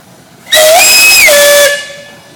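A loud steam engine whistle at a steam engine show in Rushville, Indiana blows about a second, dips briefly, then sounds again before fading, with a hissy steam edge.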